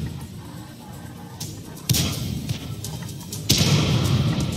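Artillery shell slamming into a T-28 tank during a World of Tanks battle, a sudden loud impact followed a moment later by a second heavy blast over steady game rumble.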